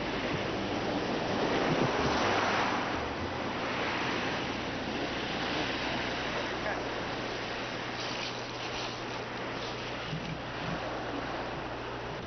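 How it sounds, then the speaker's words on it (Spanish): Sea waves wash continuously onto an island shore lined with vast sand and shell beaches, a dense, steady roar of surf with wind buffeting the microphone and no clear breaks between swells. "Sus bordes están formados por inmensas playas, algunas de arena y otras de conchuela, que las olas del mar acumulan por toneladas en la orilla."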